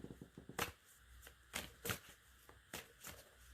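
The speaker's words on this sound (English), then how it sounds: "So I'm just shuffling an Angel Oracle deck and look what popped out here." An Angel Oracle card deck is shuffled close up, giving quiet, irregular riffling and flicking bursts of paper cards, heard on their own.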